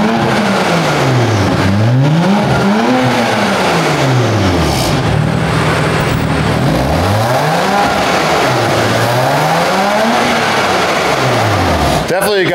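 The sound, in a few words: BMW exhaust revving with valves open, equal length mid pipe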